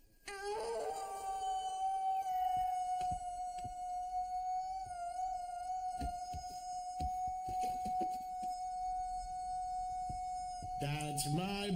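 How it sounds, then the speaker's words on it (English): A dinosaur character lets out a long, sustained, steady howl held for several seconds, with other voices and noises around it. "a dinosaur's howl is a very personal thing"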